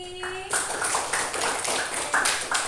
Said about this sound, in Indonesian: Tepuk tangan untuk pelajaran hari ini.